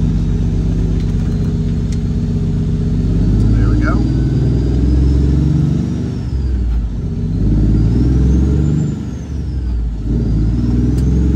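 A semi truck engine pulling away after shifting into third gear, a loud, close rumbling drone that builds and eases as it accelerates, with someone talking over it.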